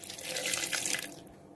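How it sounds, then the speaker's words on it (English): Water pours from a tap into a blender jar with the kurma paste ingredients, a steady near splash and trickle that thins and fades out after about a second, with no talking. "I'm adding water so that it can be blended nicely into a paste."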